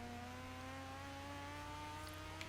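Rotary engine of a Mazda FD3S RX-7 drift build in Forza, held at very high revs around 9,500 with a steady, sustained whine throughout, faint and without talk.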